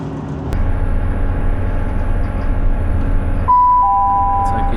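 Train on the Far North line from Inverness to Wick, a steady close rumble of carriages rolling along the track with a sustained tonal whine coming in near the end.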